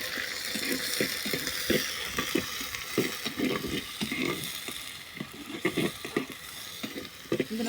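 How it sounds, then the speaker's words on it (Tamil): Small onions (shallots) frying in hot oil for a fish curry, a continuous bright sizzle broken by repeated scraping stirs and clatter, close and fairly loud. "இது பொரிஞ்சு வந்ததுக்கப்புறம் சின்ன வெங்காயத்தை போட்டுக்கலாம் ஃப்ரெண்ட்ஸ்"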